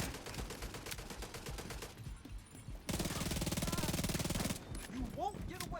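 Automated turrets fire rapid machine-gun bursts in The Division 2, a dense rattling stream that pauses and resumes loudly, with a voice speaking underneath.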